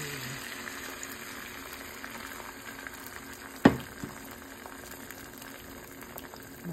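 An egg with onion cooks in a pan with a low, steady bubbling hiss, broken by one sharp clatter midway. No one speaks.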